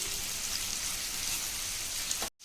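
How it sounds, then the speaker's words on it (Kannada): Bitter gourd frying in oil makes a steady, dense crackling sizzle at close range, continuous with no voices, and cuts off abruptly just before the end. "ಇವಾಗ ಆಯಿಲಲ್ಲಿ ಚೆನ್ನಾಗಿ ಫ್ರೈ ಮಾಡ್ಕೊಂಡಿದ್ದೀನಿ"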